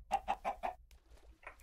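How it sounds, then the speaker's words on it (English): A quick run of four clucks from Minecraft chickens, close and clear, followed by a couple of softer clucks, with no talking. "Oh, chickens."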